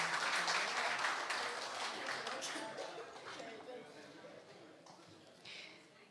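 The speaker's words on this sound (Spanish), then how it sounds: "Nuevamente un fuerte aplauso." Audience applause at an award ceremony for a social research prize, a full burst of clapping that gradually thins and fades over several seconds.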